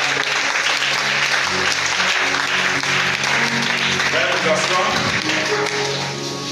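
A church congregation applauds and cheers for Jesus in a sustained, loud wash of clapping with a crowd murmur mixed in, holding steady for several seconds and easing slightly at the end.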